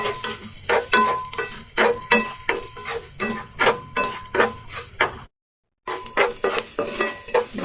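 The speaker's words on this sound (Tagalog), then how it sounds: "Igisa lang natin itong sibuyas ng konti mga sis." Onions sautéing in a pan for a milkfish (bangus) steak, with loud sizzling under repeated utensil scrapes and stirring clinks, briefly cut off before the stirring resumes; no voices.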